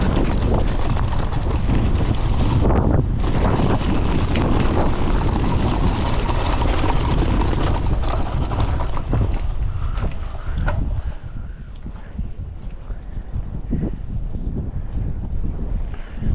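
Strong wind gusting across the microphone on a downhill mountain bike track near Prilep, a loud continuous roar that eases slightly toward the end, with no talking.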